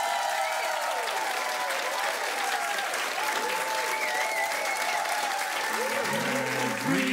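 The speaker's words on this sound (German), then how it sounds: "Der Applaus, dieser Applaus hat mir noch nicht gut genug gefallen" A crowd claps steadily in sustained applause at a live music event in a brewery, with a held musical tone sounding faintly beneath the clapping.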